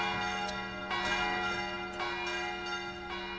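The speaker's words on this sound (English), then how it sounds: "The bells rang continuously, driving everyone crazy." Bells in a tower ring continuously, their overlapping strikes and long humming tones layering into a steady, reverberant peal with no voices.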